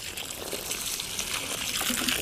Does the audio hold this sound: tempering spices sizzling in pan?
no